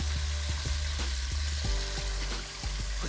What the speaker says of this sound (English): You wanna make sure when you're frying that you never overcrowd the pan